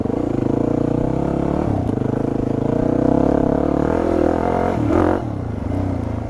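A Yamaha WR dirt bike rides off-road around a muddy track, its engine droning and rising in pitch as it revs, with clattering and scraping from the terrain and a brief dip near the end.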